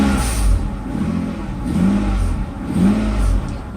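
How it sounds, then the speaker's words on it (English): A Mercedes SL600 engine rises in a few gentle swells as the gas pedal is pressed lightly, heard from inside the car as a steady mid-pitched hum. "Acceleration, just pressing on the gas slightly."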